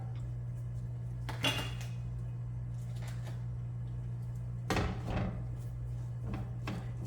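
Batches of sliced steak drop into a frying pan, producing a few heavy clattering thuds and scrapes spread apart over a steady low hum, close and fairly loud.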